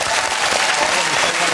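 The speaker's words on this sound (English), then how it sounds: "A round of applause for the tattoo, ladies and gentlemen." Studio audience applause on a comedy quiz show, dense continuous clapping and crowd noise filling the whole short stretch.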